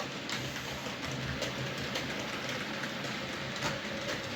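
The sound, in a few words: model locomotive running on track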